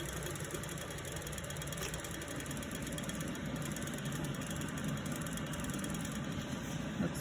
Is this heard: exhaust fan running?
yes